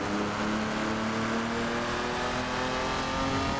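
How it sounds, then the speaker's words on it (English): A Jaguar XJ13 engine on the overrun in the racing game Assetto Corsa, a loud, steady, close rumbling drone that holds without break and without voices. "That engine sounds so nice on the overrun."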